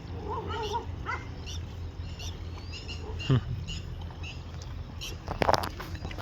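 A pack of dogs barks and yelps in short scattered bursts at a middle distance outdoors, with a sharper close bark near the end, over steady background noise.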